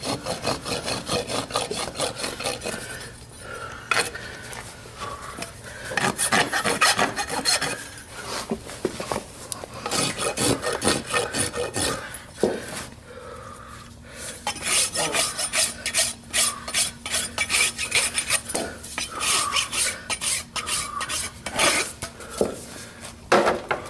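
A farrier rasps and shapes a horse's hoof during a shoeing demonstration, making steady, close, gritty scraping strokes in a fast back-and-forth rhythm that runs throughout with brief pauses and no talking.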